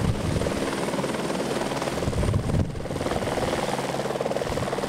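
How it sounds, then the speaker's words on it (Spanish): Firefighting helicopters over the Sierra de Santiago wildfire, a loud continuous rotor chop with steady pulsing and engine whine, close and unbroken apart from a brief dip, with no voices. "los helicópteros descendieron por la falta de visibilidad en la zona"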